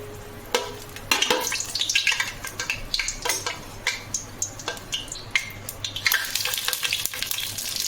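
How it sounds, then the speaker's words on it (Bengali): Dry red chillies and a tablespoon of panch phoron spluttering in hot oil for Bengali jujube pickle, with sharp crackles and pops over a steady sizzle and occasional stirring clinks, close and fairly quiet. "চার পিস শুকনো লঙ্কা আমি দিয়ে দিলাম শুকনো লঙ্কাটা যে ফ্রাই হয়ে যাবে"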